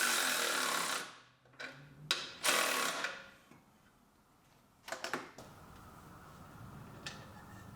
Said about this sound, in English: and then tighten it down.